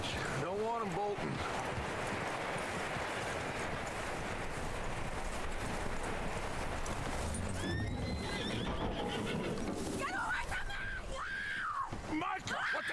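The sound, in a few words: horse neighing in the video game Red Dead Redemption 2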